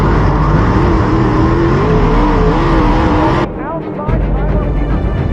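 Dirt modified race cars roar loudly around a dirt track at the Gateway Dirt Nationals, engines droning and revving close by before the sound briefly drops off and then surges back.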